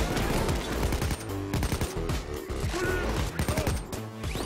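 Rapid automatic AK rifle fire in the shooter game Payday 2 rattles out in dense bursts. The shots come close and loud, with brief pauses between volleys and mechanical clatter mixed in.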